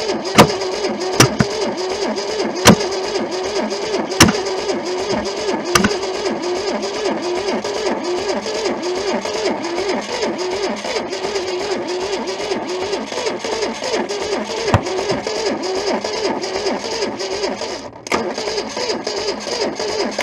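An old Holden engine sitting for decades in a junkyard runs roughly after starting, with a steady mid-pitched drone broken by sharp irregular pops and misfires throughout, close and fairly loud.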